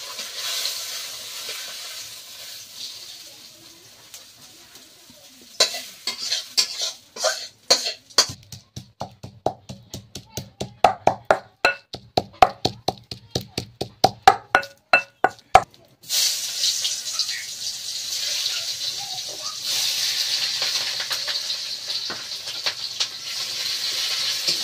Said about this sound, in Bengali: পেঁয়াজ কাঁচা লঙ্কা দিয়ে দিয়েছি তেলে